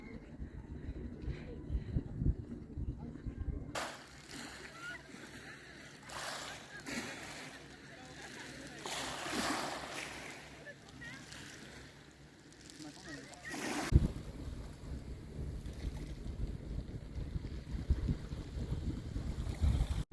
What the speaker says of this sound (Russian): Пляж в Фекане.